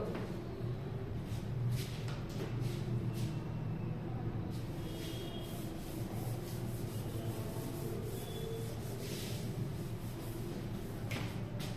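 Duster or cloth rubbing over a classroom board to erase writing, a continuous close scraping swish with rhythmic strokes, no talking.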